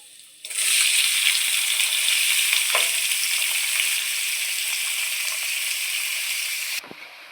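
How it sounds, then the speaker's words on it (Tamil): A loud, steady sizzle of chopped onions frying in hot oil fills the clip, with a couple of faint stirring clunks and no talking. "வெங்காயத்தை நல்லா வதக்கிடலாம்."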